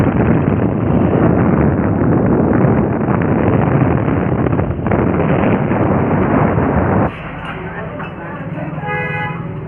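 Motorbike riding through a tea plantation, steady engine drone heavily buffeted by wind rush for most of the stretch, then dropping to a quieter hum with light rattles and chinks toward the end.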